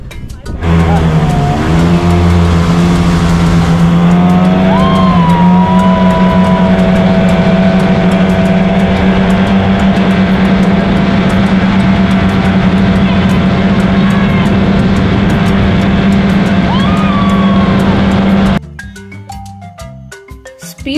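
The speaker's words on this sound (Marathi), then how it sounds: "तर आता आपण पहिला राईड करू ही वॉटर स्कूटर" Water scooter speedboat ride on a lake, a loud sustained engine drone with rising and falling revs close by, steady for most of the run before cutting off near the end.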